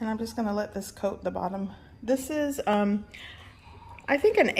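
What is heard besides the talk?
No everyday noises stand out.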